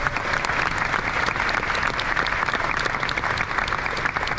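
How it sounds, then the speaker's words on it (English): An audience at CitizenCon breaks into sustained applause, a dense wash of clapping that holds steady throughout with no talk over it. "You guys deserve a hand of applause."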